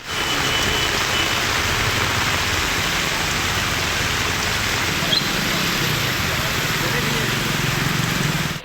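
Heavy rain pours down steadily in Singampunari, Sivaganga district, Tamil Nadu, with water flowing along the main roads, a dense, constant hiss of rainfall throughout with a low rumble beneath.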